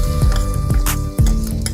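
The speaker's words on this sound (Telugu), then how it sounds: "తాలింపు తీసి పోసేద్దాం." Hot tempering of cashews, asafoetida and green chillies poured over tamarind rice, giving a crackling sizzle mixed with repeated scraping and stirring clinks of a spoon against the pan, close and loud.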